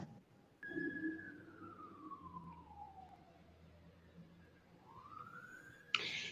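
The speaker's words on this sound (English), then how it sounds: "Y'all hear the sirens?" A siren wails in a long falling sweep, then rises again, heard from a distance outside, with a sharp clatter near the end.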